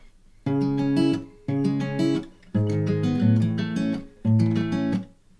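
An acoustic guitar strums four chords, each ringing for about a second with short pauses between, clear and close with no voice.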